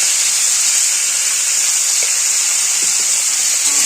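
Cauliflower florets frying in a pan with salt and turmeric, a loud, steady, close hissing sizzle throughout with a couple of faint clicks and no speech.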